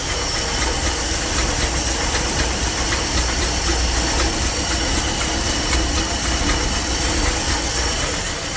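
A Dodge W300 Club Cab engine, not running on all cylinders, idles at 600 RPM with a steady, close, rough drone and constant hiss that never changes pace.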